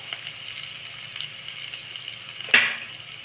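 Hot cooking oil in a pan, heat switched off, gives a steady soft sizzle throughout with a brief louder crackle near the end.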